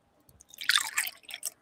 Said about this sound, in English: I'm going to pour me right now a Glenfiddich, 18 years single malt scotch